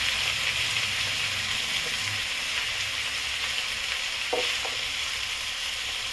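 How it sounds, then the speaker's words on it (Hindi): Chicken frying and being stirred in a pan for a quick chicken biryani, a steady close sizzle with occasional scrapes of the spoon, no voices over it. "इसे भी मैं भून लेती हूँ, अच्छी तरह भून लेती हूँ।"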